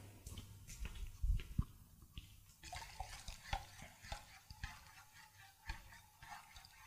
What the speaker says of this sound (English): I'm going to come back and stir again